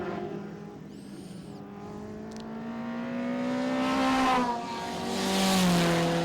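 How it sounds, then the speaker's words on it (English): A front-wheel-drive turbocharged Nissan Exa touring race car in Group A and C racing at Winton, its engine droning and rising in pitch as it accelerates past at moderate distance, with a brief squeal early on. "The number 60 front-wheel drive turbocharged machine built by Gibson Motorsport for Christine Gibson to race."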